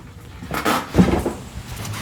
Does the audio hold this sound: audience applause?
no